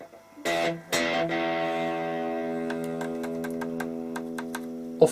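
Electric guitar played through a Marshall 5100 100-watt MOSFET amp with an intermittent cut-out fault; two strummed chords ring out and sustain, followed by a series of light, evenly spaced clicks or muted string taps.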